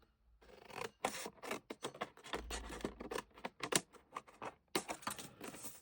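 Scissors snip through paper in a quick irregular series of crisp cuts, close and alone, with brief pauses between runs of snips while preparing a spray starch and pigment powder background.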